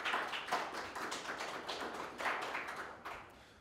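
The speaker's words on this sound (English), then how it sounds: "A round of applause for me." Symposium audience giving a round of applause after a space science presentation, a fairly faint, steady patter of many hands in a hall that gradually tapers off, with no voices.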